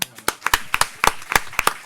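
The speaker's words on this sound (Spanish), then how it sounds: "Y ahora lo que viene es un aplauso, ¿no?" A small audience at a book presentation claps, sparse individual hand claps in a quick irregular patter, close and crisp, with no voices over them.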